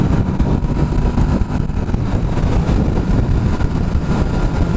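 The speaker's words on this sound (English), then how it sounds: "Listen to that engine." A Kawasaki Vulcan S 650 midweight cruiser's 650 engine pulls steadily on the road, giving a loud, continuous, unbroken drone from start to finish with no voices.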